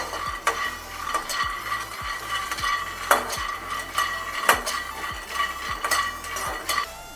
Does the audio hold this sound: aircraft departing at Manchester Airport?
no